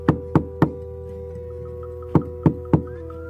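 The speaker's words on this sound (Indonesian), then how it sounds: "tiba-tiba pintu rumah diketuk dari luar" Someone knocks on a house door from outside in the evening, with two quick sets of three sharp raps separated by a pause, set over a steady low hum.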